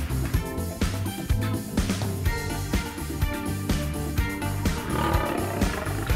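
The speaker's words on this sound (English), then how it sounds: "Lion." Lion roaring in a series of deep, rhythmic grunting roars that pulse steadily and loudly, close and alone with no talk.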